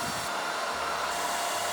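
A hair dryer blows steadily up close while bangs are being styled, a continuous broadband whoosh with a faint low hum and no pauses.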